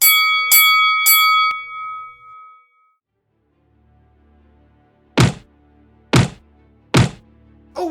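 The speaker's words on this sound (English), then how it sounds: "Ring that bell." Three quick bell rings start a toy wrestling figure match, bright ringing clangs that decay, then silence, followed by three separate dull thunks later on.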